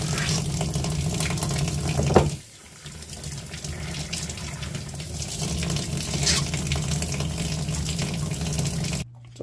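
Warm water runs and splashes steadily while being flushed through an Epson WF-2850 printhead. The trickle continues close by for about nine seconds, dips briefly early on, then stops abruptly.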